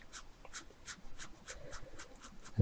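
A drawing tool sketches in short, steady strokes, about nine soft scratchy passes in a regular rhythm, close and quiet with no voices.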